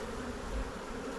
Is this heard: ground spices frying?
no